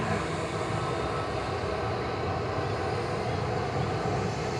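A Ryanair airplane bound for Turin at Manchester Airport produces a constant, dense engine rumble that holds at an even loudness for a few seconds.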